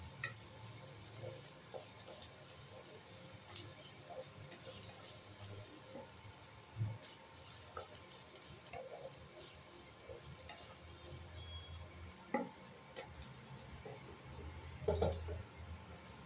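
Potatoes and green chilli frying in a pan give a steady low sizzle with occasional stirring scrapes and clinks, close and moderately quiet, with no one speaking.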